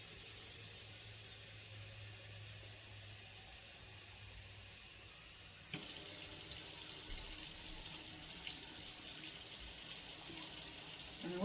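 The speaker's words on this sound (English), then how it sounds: "I'm going to add about 4 to 5 cups of water." Water runs steadily from a tap into a pot of dry red beans, making a continuous close hiss and splash that shifts slightly in tone partway through. No one speaks.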